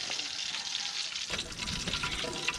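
Field crabs fry in a pan of hot oil, a steady broadband sizzle that grows rougher and busier midway, close and continuous with no voices.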